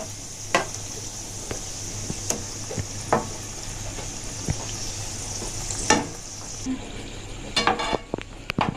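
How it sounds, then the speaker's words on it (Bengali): A potato Mughlai paratha frying in a pan of oil gives a steady sizzle, broken by several sharp taps and scrapes of a spatula, with a louder clatter near the end. "এই দেখুন ওপরটাও ওই তেলেতেই কেমন ফ্রাই হচ্ছে দেখুন"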